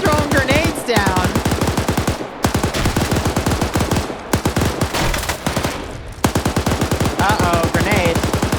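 Close, loud automatic gunfire in a shooter video game rattles in long rapid bursts separated by short pauses, with brief voices heard between volleys.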